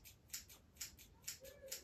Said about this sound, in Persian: یعنی قیچی شما باید موقع تمرینتون صدا بده